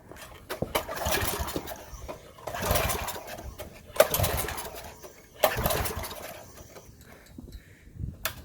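Small engine on a free pressure washer being started with the choke on: several rough pull-start attempts and sputtering bursts, loud and close, with gaps between the pulls.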